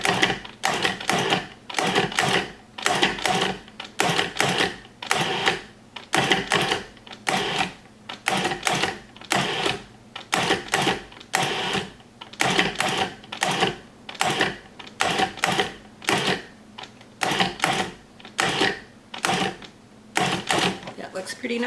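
A food processor mixes rich pastry crust dough for pie, giving loud, rapid chopping pulses in a steady repeating rhythm close by, with no pauses across the whole stretch.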